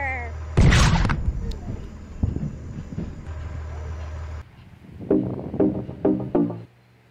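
A loud cannon blast booms near the start in a Henry Stickmin game, followed by a rumbling mechanical hum and then a few bursts of speech.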